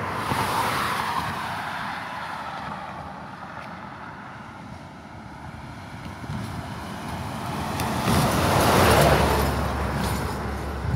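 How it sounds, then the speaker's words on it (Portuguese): Car driving past on a road along the Rio do Peixe, a broad rushing wash that swells as it nears and peaks near the end, heard from a passing vehicle with wind noise and no talk. "Vem vindo outro carro ali."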